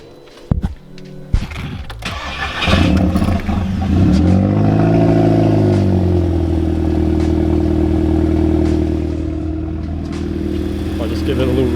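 A loud car with a diverter valve cranks and fires up in a garage, a couple of sharp clunks and a starter whirr giving way to a rising engine note that settles into a steady, throaty idle.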